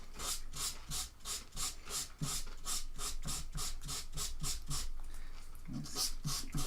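Sandpaper rubs back and forth with the grain across a wood-burned pyrography piece, a steady run of about twenty close, even rasping strokes with no talk.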